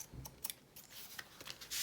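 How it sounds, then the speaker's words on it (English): Scissors snip through paper gift tags in a series of quiet, crisp cuts with small clicks between them, close up. "we will attempt to trim that up with these scissors"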